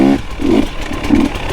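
A KTM 300XC two-stroke dirt bike engine revving close by, loud and rasping, rising in two quick surges of throttle over a continuous buzzing drone.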